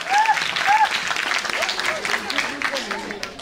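Applause from an audience welcoming a guest onto a stage, a steady patter of clapping for a few seconds, with brief voices and a faint tone over it.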